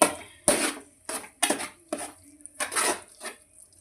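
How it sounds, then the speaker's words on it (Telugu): Fish eggs being mixed in a pan for a fish egg fry, with a utensil scraping and clanking against the pan in about seven distinct close strokes separated by short quiet gaps. "ఇప్పుడంతా దానికి పట్టేలాగా కలుపుకోండి."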